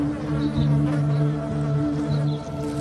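A close, continuous buzzing of insects, like bees humming in a steady droning chorus with no voices.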